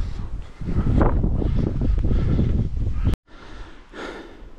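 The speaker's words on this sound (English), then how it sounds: "It's a little bit windy" Strong gusty wind buffets the microphone on an exposed mountain trail at Treska on Kopaonik, Serbia, a loud continuous rumble that drops out abruptly for an instant before returning slightly softer.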